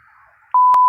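A single sustained censor bleep, a pure steady tone about half a second long, cuts in abruptly after a quiet stretch of low background noise and stops with a short click.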